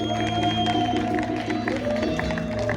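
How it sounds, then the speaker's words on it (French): An audience at a music-and-literature show applauds, a steady spread of clapping with some crowd murmur underneath, over a held musical drone. "On applaudit pour les Ateliers Sables, s'il vous plaît."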